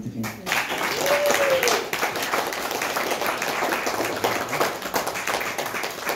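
An audience applauds at the opening of an orangery in a walled garden on Midsummer's Eve, a steady, dense burst of clapping that carries on for several seconds, with a brief voice heard near the start.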